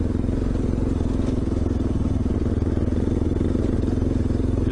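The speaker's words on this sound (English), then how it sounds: "they're looking at this bloody motorbike" A dual-sport motorbike engine idling and running steadily up close, a rough rhythmic putter with faint clatter, continuous for the whole stretch.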